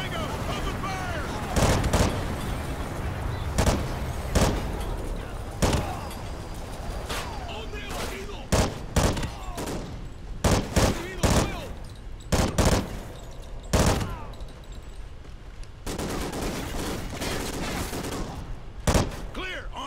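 Rapid automatic gunfire in Call of Duty: Ghosts, dense bursts and sharp shots cracking over a constant battle din, with soldier voices calling out through the firefight.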